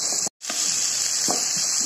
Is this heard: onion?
yes